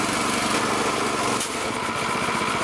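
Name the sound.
damaged air compressor running and building pressure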